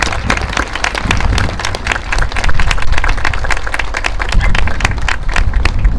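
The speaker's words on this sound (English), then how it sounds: "So let's give them a big round of applause." Dense applause from a crowd gathered for a Memorial Day observance in Darien, steady and loud for several seconds, with many overlapping hand claps and no speech.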